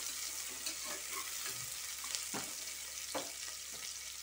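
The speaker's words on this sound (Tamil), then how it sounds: "வெங்காயம், பச்சை மிளகாய் கட் பண்ணி வச்சுருக்கேன், அதை போட்டுக்கிறேன். கொஞ்சம் நல்லா வதங்கணும்." Chopped onions and green chillies frying in a pan for a pressure-cooker snake gourd biryani, a soft steady sizzle with a few scraping stirs, quiet and distant-sounding.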